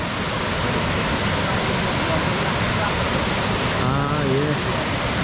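Aysgarth Falls in Yorkshire, a multi-step waterfall, roars as a loud, constant broadband rush of water with no break, close by, while a voice speaks briefly near the end.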